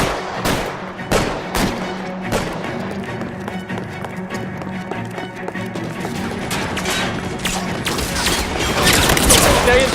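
Rapid suppressing gunfire in L.A. Noire crackles in a dense, irregular volley of sharp shots over ten seconds, with mechanical clatter and a busy firefight background.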